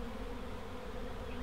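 A dense swarm of honey bees buzzing steadily around a box during a bee rescue from a trailer, a continuous close drone without pauses or voices.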